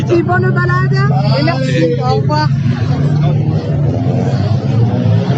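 Steady road traffic drone from cars passing at an outdoor charity ride event, constant and fairly loud beneath a person speaking French throughout.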